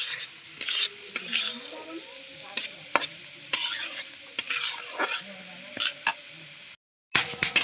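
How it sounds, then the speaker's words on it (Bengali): Lentils frying in a pan for khichuri, with a utensil scraping and stirring in repeated clatters over a steady sizzle, close up, with brief bits of talk and a short gap near the end. "তোমার ডালটা দেখো ভাজা হয়ে গেছে"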